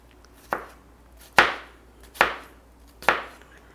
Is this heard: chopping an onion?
yes